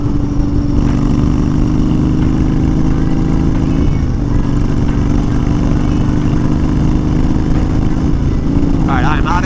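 A Honda Fury motorcycle fitted with a Power Commander V roars steadily at full throttle down an open road, a loud continuous engine drone mixed with wind rush, and someone talks briefly over it.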